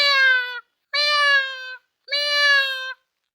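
A person's voice imitates a cat, giving three clear, loud meows in a row, each about half a second to a second long with short silent gaps between them.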